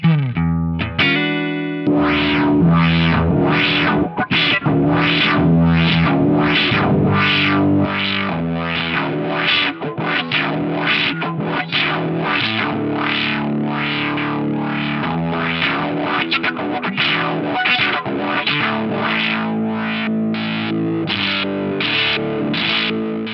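Distorted electric guitar chord pulsing rhythmically through a filter with sine wave modulation, its tone sweeping smoothly up and down in a steady wavering pattern, loud and continuous.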